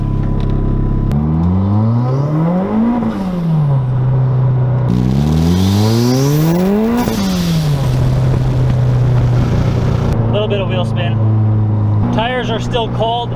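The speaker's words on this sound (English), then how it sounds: "want to do a couple quick little first gear pulls just to see what the traction's like" A turbocharged car does short first-gear pulls on cold, fully inflated tires, engine revs climbing and dropping in repeated sweeps with turbo whistle and spool, recorded close to the turbo, with someone talking over it.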